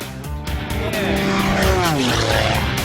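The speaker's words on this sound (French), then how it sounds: "Un tour de haute voltige dans un avion de cascade" A stunt plane at King City airport roars with a loud, continuous engine drone whose pitch sweeps as it passes, and a narrator talks over it.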